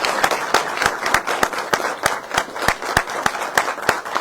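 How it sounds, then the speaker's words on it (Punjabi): A crowd at a political gathering claps in a steady, rapid rhythm, with sharp, evenly spaced loud beats that carry on for the whole stretch. "ਇੱਕ ਵਾਰ ਜ਼ੋਰਦਾਰ ਤਾੜੀਆਂ ਮਾਰੋ ਯਾਰ"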